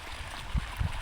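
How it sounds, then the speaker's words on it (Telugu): Irrigation water runs into the furrowed channels of a cotton field, a low steady gurgle with a couple of brief louder splashy surges, close by and with no talk. "నీళ్ళు వస్తున్నాయి చూడండి"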